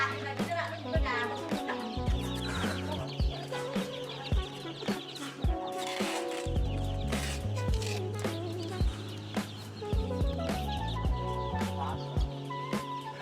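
Chickens and chicks for sale at a village poultry market cluck and chirp nonstop nearby, while people talk and bargain over them.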